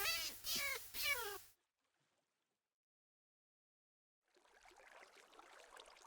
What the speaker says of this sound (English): Wait, there's a cat?